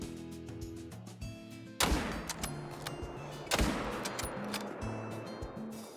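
Two loud rifle shots from a hunting game, aimed at a brown bear in the Medved-Taiga reserve, the first about two seconds in and the second near three and a half seconds, each with a long rolling echo, over steady ambient wildlife tones.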